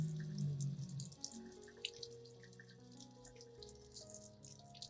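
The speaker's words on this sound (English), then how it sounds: "thoroughly rinse the entire plant again with clean water." Running tap water splashes softly over an orchid plant, a gentle continuous trickle with faint drips, close by and quiet, with no talking.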